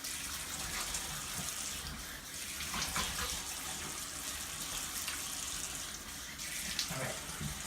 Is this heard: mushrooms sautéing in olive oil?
no